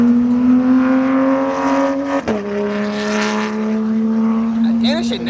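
A loud car engine revs hard and steadily at a car meet as exotic cars and street cars leave, with a brief dip in pitch midway before climbing again, and voices talking over the roar.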